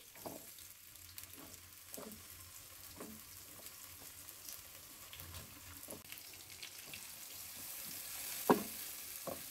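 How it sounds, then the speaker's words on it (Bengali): Bitter gourd fries in plenty of oil over high heat, a quiet, steady sizzle scattered with small pops and one louder crackle near the end. "এই তেলে এখন করলাটা আগে প্রথমে একটু ভেজে নেওয়া"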